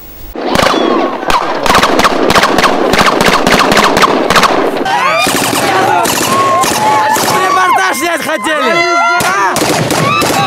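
Rapid bursts of gunfire crack at a military field training range, dense volleys and single loud shots with echoing reports, then scattered shots mixed with chirping, whistling tones.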